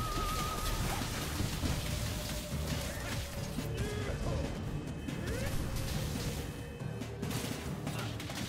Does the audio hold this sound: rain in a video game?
yes